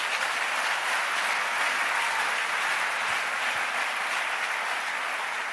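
A church congregation at a worship service applauding together, a dense, sustained wash of clapping from many hands that fills the room evenly throughout.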